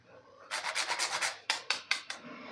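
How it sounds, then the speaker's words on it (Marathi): Nutmeg is grated by hand for jaggery and coconut modak, giving a run of quick, close rasping strokes, then four sharper separate scrapes. "थोडंसं जायफळ किसून घालायचं"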